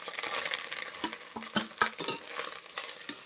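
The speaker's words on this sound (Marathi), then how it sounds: "आता खोबरं टाकून घेतो आम्ही तेल थोडंफार आता गरम झालेलं आहे" Grated coconut tipped into hot oil in a pan during preparation of Konkan-style chicken vade, giving light crackling sizzle with scraping stirring and clinks of a utensil against the pan, close and moderately loud.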